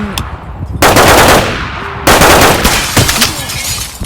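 Gunfire in a video game shootout: two long, loud bursts of rapid automatic fire separated by a short gap, with scattered single shots and clatter around them.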